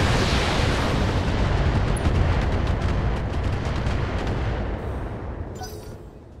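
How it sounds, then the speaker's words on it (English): Ship guns in a video game fire on the Corsair as a heavy, roaring wall of booming cannon blasts that rumbles continuously, then gradually fades and thins toward the end. "We're just going to continue firing at the Corsair."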